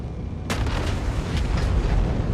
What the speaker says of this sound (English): Not sure about all the crackly explosions, though.